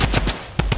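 Rapid automatic gunfire from a Fortnite match: a quick burst of shots, a brief lull, then a few more close, loud reports, with no talk.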